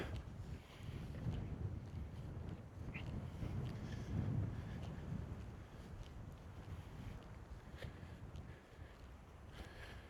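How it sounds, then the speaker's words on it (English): Steady wind gusts buffet the microphone on an open hilltop walk through harvested fields in the Lincolnshire Wolds, a continuous low rumble with a few faint footsteps and no talking. "It's almost nippy in this wind, actually."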